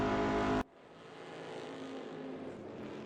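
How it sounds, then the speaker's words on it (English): Race car engines in the RaceRoom racing game, a loud engine drone cutting off abruptly, then a steadier, quieter engine hum that slowly swells, with no talk. "I do like the sound of these cars, though."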